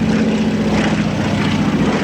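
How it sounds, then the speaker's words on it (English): A Junkers Ju-52 with a corrugated fuselage flies past at a WWII airshow in Virginia Beach in 2015. Its propeller engines make a loud, steady droning roar that fills the whole stretch. "Flying past now, the brilliant corrugated fuselage of the Ju-52 with its full-length ailerons."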